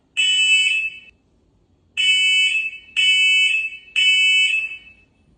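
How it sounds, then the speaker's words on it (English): First Alert SC5 smart smoke alarm sounding its test siren: four loud, shrill electronic beeps, the first held about a second and the rest shorter, clear and close with silence between. "The alarm is loud. The test will start in 5 seconds."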